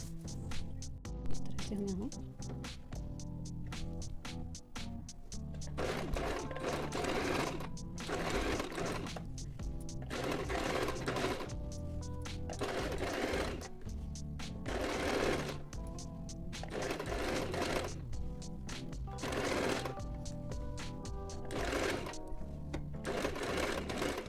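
Sewing machine stitching around a kurti neckline, in bursts of rapid whirring that stop and start several times, with a voice talking between and over the runs.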